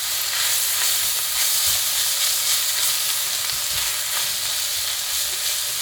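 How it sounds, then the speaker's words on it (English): Garlic and onions fry vigorously in a hot pan, a dense, steady sizzle with occasional stirring knocks and no voices. "we're just going to cook this further for about 3 to 4 minutes, just so the garlic's fully cooked through"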